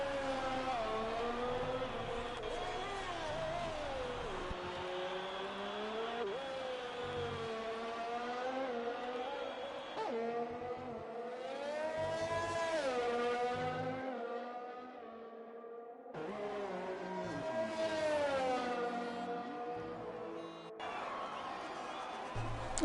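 An F1 race car engine laps the Singapore Grand Prix circuit in the F1 video game, a loud continuous whine that climbs and falls in pitch through gear changes and corners, dropping briefly before surging again.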